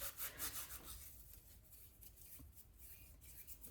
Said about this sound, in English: About 1 tablespoon of oregano, and I'm going to rub that between my hands.